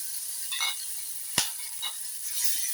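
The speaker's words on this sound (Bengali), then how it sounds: "দিয়ে এটাকে আমি একটু ভালো করে কষাবো, যাতে আদা রসুনের কাঁচা গন্ধটা চলে যায়" Ginger, garlic and onion paste fries in a pan with a steady close sizzling hiss, broken by a few light scrapes and one sharp knock of the spoon.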